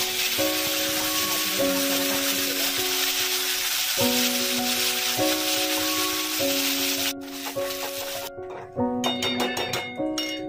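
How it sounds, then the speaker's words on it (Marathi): Whole spices crackle and sizzle in hot oil as the base of a multipurpose gravy masala is started, a steady close hiss running beneath prominent background music throughout. "तर आपलं तेल तापलेलं आहे, त्यात मी काही आपले बेसिक खडे मसाले टाकले आहेत"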